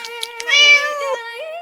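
A small kitten gives a few clear, close meows, one drawn-out cry in the middle with shorter calls around it, loud against a quiet background.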